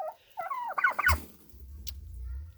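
A turkey gobbles nearby, a rapid warbling burst of calls, followed by quieter rustling and low background noise.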